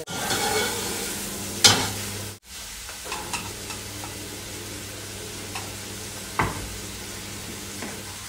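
Onion with red and green chilies frying in ghee gives a steady, moderate sizzle, with a few sharp clinks from stirring and a brief dropout partway through.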